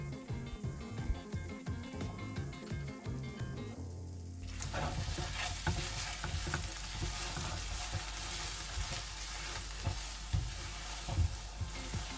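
Ghee goes into a pistachio milk burfi mixture. Loud, steady frying sizzle and continuous stirring follow, after a stretch of rhythmic scraping and knocking in the pan. No one speaks.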